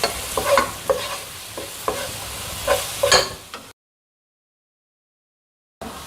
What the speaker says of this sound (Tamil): இப்போ நான் இஞ்சி பூண்டு பேஸ்ட் சேர்க்குறேங்க. பச்சை வாசனை போகிற வரைக்கும் நம்ம வதக்கிக்கலாம்.